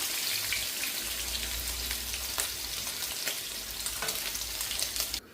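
Sausages fry in hot oil in a pan with a steady, dense crackling sizzle that stays close and fairly loud throughout, with a few faint clicks and no talk.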